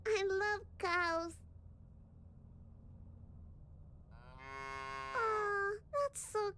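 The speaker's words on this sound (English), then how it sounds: "There's a bunch of cows on the field." Cattle mooing in the video game Little Misfortune: two short lowing calls, then a long drawn-out moo with another overlapping near the end, against a soft ambient background, with faint child-like voice sounds mixed in.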